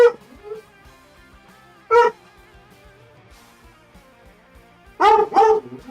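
A pup barks in three loud, close yelps, one at the start, one about two seconds in and a quick double near the end, with quiet pauses and faint ticking between them.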